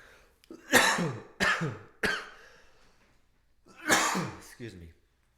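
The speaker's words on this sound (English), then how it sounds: "And this cough is pretty savage." Several harsh, loud coughs close up, three in quick succession and then another burst with a final smaller cough after a pause.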